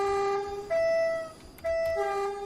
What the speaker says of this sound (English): It's got a good horn to it as well.